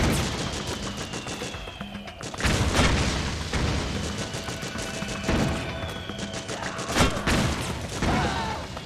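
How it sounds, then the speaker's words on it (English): Mortar shells burst in Metal Gear Solid 4, with repeated loud explosions and heavy booms mixed with rattling gunfire throughout a sustained battle. "Oh, the mortars, man."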